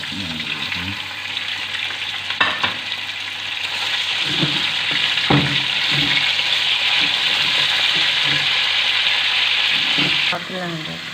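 Chicken pieces frying in a karahi over a lowered flame, a steady loud sizzle running throughout, with a few clattering knocks and stirring scrapes and a voice speaking briefly over it.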